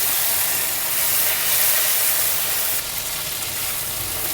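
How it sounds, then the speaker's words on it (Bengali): Spice paste fries in oil for a king fish mustard curry, a loud, steady, close sizzling hiss that runs throughout with a slight drop in intensity partway, with no talking. "কষিয়ে নেবো একটু তিন মিনিট মতন কষিয়ে নেব যাতে গন্ধটা চলে যায় কাঁচা গন্ধটা"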